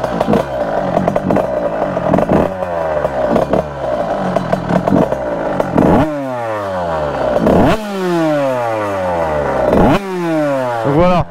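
Dirt bike with a TXT exhaust cartridge revving hard nearby: loud, rough engine bursts rise and fall repeatedly in sharp up-and-down sweeps, with some clatter.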